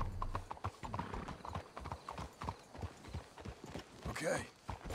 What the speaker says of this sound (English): реально хилая какая-то лошадь. Скакун арабский.